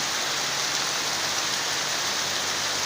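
Steady, dense rain falling without a break, a continuous hiss of drops with no voices.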